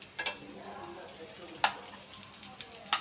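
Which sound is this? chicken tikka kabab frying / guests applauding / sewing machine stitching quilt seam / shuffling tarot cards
chicken tikka kabab frying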